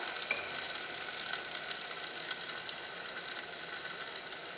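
Chicken fries in tomato paste in a pan, giving a steady, close, hissing sizzle that stays even and loud throughout, with no voices.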